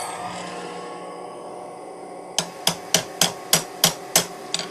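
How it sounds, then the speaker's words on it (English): A woodturning platform tapped down into place: after a quiet hum, about eight sharp, evenly spaced hammer taps ring out close by, each roughly a third of a second apart. "Just tapping my platform down, getting it."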